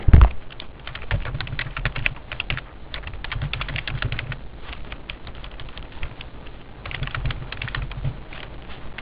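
Rapid, uneven clatter of keys on a computer keyboard, typed close up in continuous bursts with a few short pauses and no voices.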